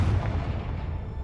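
A Confringo spell explodes in the video game Hogwarts Legacy, one loud, close, booming blast that rolls off into a rumbling tail.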